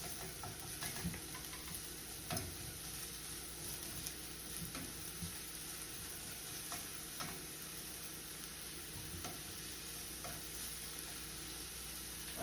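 Pieces of white onion sizzle steadily in a hot skillet, with soft clicks and scrapes as they are stirred now and then, even and moderately close throughout.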